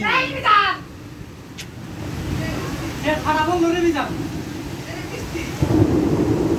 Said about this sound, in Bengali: কি ঝড়